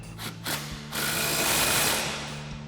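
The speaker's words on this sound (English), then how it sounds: "We're gonna grab our impact, 21mm socket, and a 21mm wrench." A cordless impact wrench fitted with a 21mm socket drives the factory bolt on a new shock for a 2009-2018 RAM 1500, giving a couple of short bursts followed by one longer, steady whirring run, close and fairly loud.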